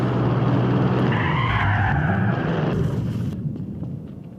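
Tires screech in a long, loud skid over a roaring car engine in the video game Garry's Mod, the squeal wavering before fading out.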